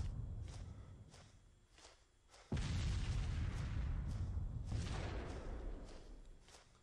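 Cannon fire striking a fortress tower in a siege video game: a few soft thumps, then one sudden heavy boom that erupts into a loud, rumbling blast fading slowly, with further dull impacts behind.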